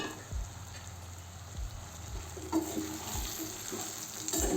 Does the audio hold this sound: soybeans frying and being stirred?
yes